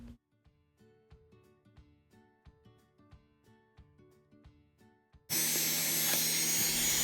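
A Garland rotary tool bores a hole into a wooden lemon half for a budget Dollar Tree summer craft. A loud, steady, high-pitched whir starts abruptly near the end, following a quieter stretch of soft rhythmic tones.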